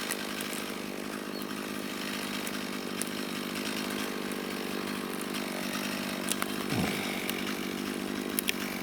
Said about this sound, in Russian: Сейчас он отпилит чурбак, пилит его по центру с 4 сторон.